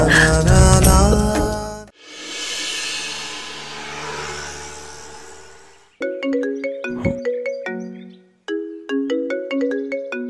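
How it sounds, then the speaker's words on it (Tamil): Ringtone of a phone announcing an incoming call, a melodic electronic tune with bright tonal notes in short repeating bursts, interrupted by a sustained wash of music before the ring pattern returns loud and close. "மாமா தான் ஃபோன் பண்றாரு."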